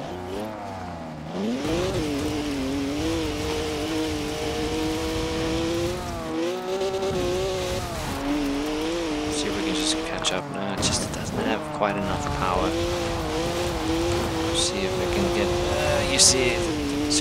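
A stock 2011 BMW 1 Series M Coupe in Forza Horizon 4 drones steadily as its engine revs rise and fall through gear changes, with occasional tire noise, under continuous talk.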